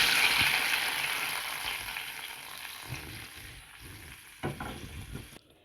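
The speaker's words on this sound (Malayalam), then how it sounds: "ഇതിനി നമുക്ക് ഈ മീൻ കറിയിലേക്ക് ഒഴിച്ചു കൊടുക്കാം" Curry leaf tempering poured into a sardine and green mango curry, a sizzling hiss that fades over several seconds, with a sharp spurt near the end, close and moderate, no speech.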